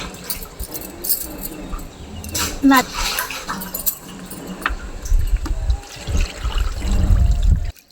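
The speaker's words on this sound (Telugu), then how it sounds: "నీళ్ళు తోడుకుంటున్నా" Water drawn and poured in a kitchen while cooking chicken biryani, splashing and trickling with metallic clinks, close and fairly loud, with voices intermittently in the background.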